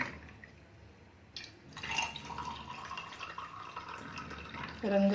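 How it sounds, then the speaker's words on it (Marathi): Blue butterfly pea flower juice is poured into a glass, a soft steady liquid trickle that grows after a second and carries on to the end, with a brief clink at the close. "आता या ग्लासामध्ये ज्यूस टाकून घेणार आहे बर्फ टाकून घ्यायचा अगोदर ग्लासामध्ये ज्यूस ओतून घेणार आहे"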